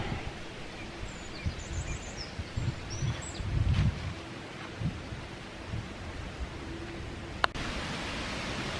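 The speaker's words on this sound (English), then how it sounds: "It's cold and it's windy" Cold wind buffets a wooded hiking trail with low rumbling gusts and rustling, a few faint bird chirps in the background, and a brief click near the end.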